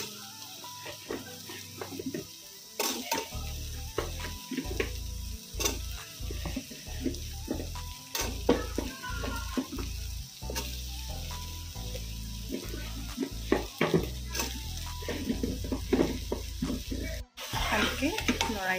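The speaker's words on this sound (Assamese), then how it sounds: "এতিয়া অলপমান ভাজি আছোঁ।" Vegetables for an everyday curry sizzle in a pan, with repeated clattering stirs and scrapes of a spoon against the metal over continuous frying hiss, close and fairly loud.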